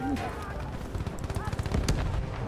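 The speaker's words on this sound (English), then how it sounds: "You tell me to fire your minigun like this?" Minigun fire in Battlefield V rattles out in rapid, dense bursts of sharp shots that swell toward the end, with faint voices in the background.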